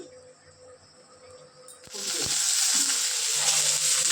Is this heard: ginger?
yes